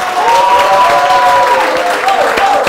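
A quiz show audience breaks into loud, dense applause with some crowd noise. A sustained tone rises over the clapping for most of its length.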